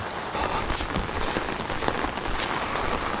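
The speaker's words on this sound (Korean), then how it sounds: "자, 비가 와도 너무 많이 옵니다." Heavy rain pours down steadily at a fishing spot, a dense, continuous hiss of drops striking surfaces close by, with no voices.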